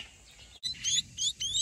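Young birds chirp while being hand-fed, with a yellow-legged adult bird nearby, giving short, high, repeated tweets in quick bursts, fairly close and moderately loud against a quiet background.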